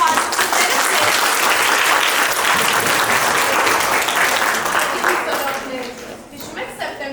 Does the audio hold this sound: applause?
yes